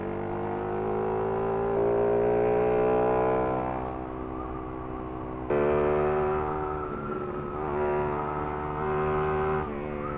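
Police siren wailing over traffic on a road near Los Baños, its pitch sweeping up and down steadily and loudly close by, with engine and road noise underneath.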